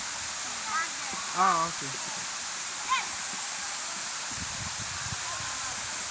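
Steady broadband rush of the Kawasan Falls waterfall in Bohol fills the background throughout, with a few short voices speaking over it near the start.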